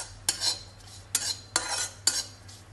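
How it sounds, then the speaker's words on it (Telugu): Bombay semolina being fried and stirred in a pan with dry fruits for pumpkin halwa: four distinct scraping strokes of a metal spoon against the pan, close and evenly spaced, each fading into a soft hiss, with no speech. "బొంబాయి రవ్వ కూడా వేసి ఫ్రై చేసుకుంటున్నాను."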